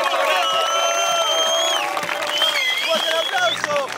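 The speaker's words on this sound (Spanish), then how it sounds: "Aplauso para los pibes" Crowd at a rap event cheering with whistles and whoops over some clapping, lively and fairly close, with bursts of shouting voices throughout.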